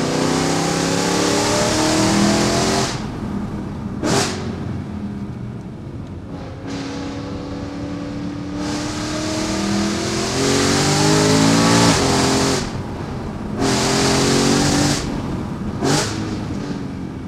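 BMW M3 E92 with a DKG gearbox accelerating hard, its naturally aspirated engine rising in pitch through several gears, each shift marked by a sharp cut and a pop, loud and close.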